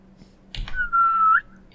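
A single whistled note in an Unreal Engine 5 game demo, rising slightly at the end and held for under a second after a brief click or two, fairly quiet and close with a faint background hum.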